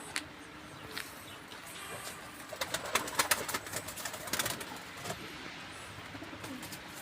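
Pigeons coo in a loft, soft throaty calls repeating at a moderate distance over a quiet background, with a cluster of louder coos and wing flutters in the middle.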